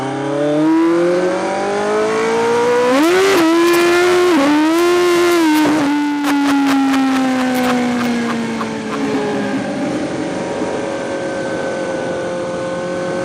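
A street-legal drag motorcycle accelerates hard through its gears on an open road: a loud, close engine climbs in pitch, drops sharply at each of several quick shifts, then settles into a steadier, fading drone.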